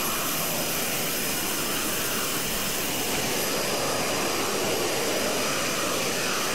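A steady, dense jet-engine roar from an Airbus in a flight video game fills the whole stretch at constant loudness with no breaks.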